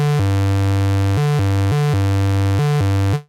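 A square-wavetable synth patch in jitter mode sounds one held note whose pitch keeps jumping between steps in a steady, irregular pattern, loud and alone before cutting off.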